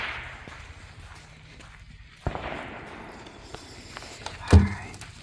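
A rifle round is fired at a 25-yard range, a sharp, loud crack with a brief echoing tail, preceded by a softer snapping impact; otherwise quiet outdoor surroundings with faint shuffling.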